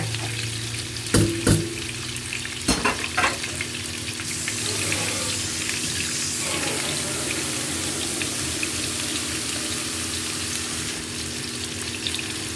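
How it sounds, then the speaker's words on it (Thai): Water poured into a hot frying pan during home cooking: a few sharp clanks, then a loud, broad hiss and bubbling sizzle that carries on steadily. "ใส่น้ำเข้าไป"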